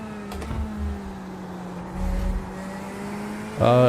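LMP2 race car engine in the iRacing simulator, a steady tonal engine drone with a sharp rising rev near the end, heard alone without talk.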